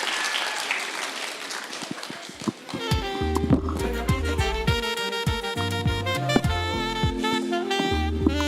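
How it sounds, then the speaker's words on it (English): A conference audience claps for a couple of seconds while a speaker walks to the stage, then loud rhythmic music with a heavy beat takes over. "Let's clap again until he gets to the stage,"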